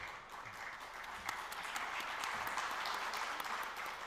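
An audience at an investor panel breaks into steady, continuous applause that fills the room, fairly soft and even throughout, with no talk over it.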